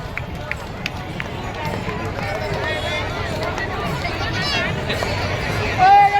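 A horse gallops through the ringan ring past a crowd at the Pandharpur yatra, its hoofbeats running under a steady hubbub of crowd noise and a voice over a loudspeaker.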